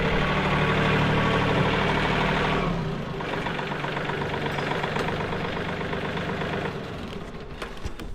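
A tractor engine runs steadily and loud at close range on a homestead, its low rumble dipping slightly partway through, then continuing evenly with no talk.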